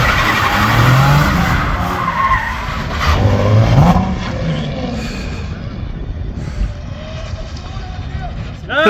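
A car slides around a course with loud, sustained skidding and tire squeal over engine roar, close and continuous, fading somewhat toward the end.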